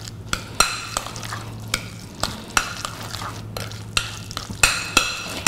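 Guacamole gets stirred in a bowl, a spoon knocking and scraping in a quick uneven rhythm of sharp taps with a low hum running underneath.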